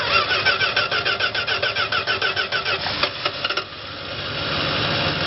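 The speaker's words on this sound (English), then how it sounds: "I don't know why it's backfiring." A 1971 Dodge Coronet engine cranking in a fast rhythmic churn for several seconds, a few sharp backfire pops near the end, then the cranking fades into a steady hum as the battery dies.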